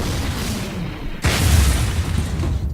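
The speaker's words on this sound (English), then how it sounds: "there was an enormous explosion as the meteor hit" A meteor smashes down in a story sound effect, one sudden deep boom that cuts through a low rumble and then rolls on as a heavy, close aftershock.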